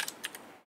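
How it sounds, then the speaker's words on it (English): A short run of computer keyboard keystrokes typing an email, a few crisp close taps that cut off abruptly. "I'm typing down my email."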